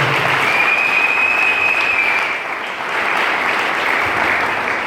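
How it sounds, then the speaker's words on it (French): A church congregation applauds steadily for several seconds, a dense wash of clapping that dips briefly midway and then picks back up, with no voices over it. "Sous vos acclamations, s'il vous plaît."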